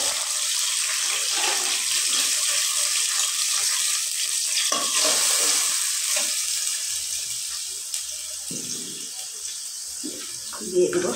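Garlic, green chilli and onion paste, freshly blended, sizzles steadily in a hot pan, a bright close hiss that eases slightly toward the end with a few stirring knocks.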